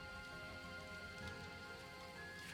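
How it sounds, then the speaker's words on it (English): Endless rain in a video game patters in an even, steady wash, faint and continuous, with a soft musical drone underneath and no talk. "All the while, an endless rain."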